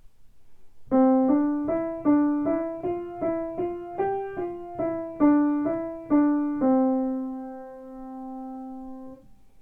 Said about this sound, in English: When we play legato, we don't release one note until the next note is played